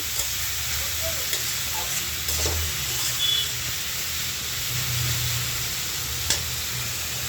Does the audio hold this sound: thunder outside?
no